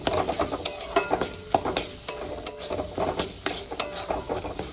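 Ground coriander and red chilli powder are sautéed with tomato in a pan, heard as a spatula scraping and clinking in repeated strokes over a faint low sizzle.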